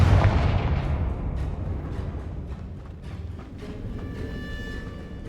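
Confringo explosive fire spell in Hogwarts Legacy, a sharp booming blast that rolls into a fading rumble, with several smaller bursts trailing after and no voices.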